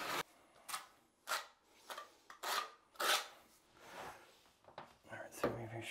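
Notched quarter-by-quarter trowel dragging tile adhesive in a bathroom, giving repeated loud rasping scrapes in a steady stroke-by-stroke rhythm, close up, with no talk.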